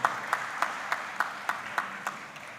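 Slow, evenly spaced claps, about nine in all, ring out quietly at a COVID-19 vaccine and testing town hall meeting, honoring front-line medical workers, with no talk over them.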